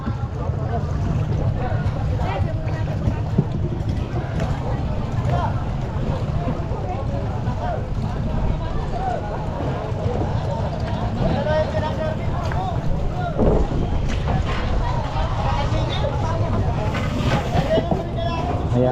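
Motorboat engines at a boat terminal in Macabebe rumble steadily near the water with wind buffeting the microphone, while people talk intermittently over the constant drone.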